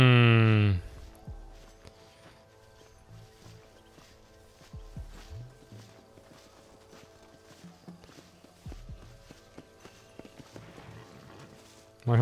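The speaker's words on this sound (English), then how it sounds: "My horse is following me." In Red Dead Redemption, a horse follows the player with soft, uneven clip-clopping hooves that mix with footsteps over a quiet background, and there are brief louder bursts at the start and end.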